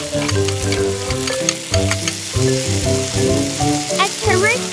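Potatoes and carrots with garlic fry in hot oil in a pan, a steady close sizzle running throughout with a few light scrapes of stirring near the end.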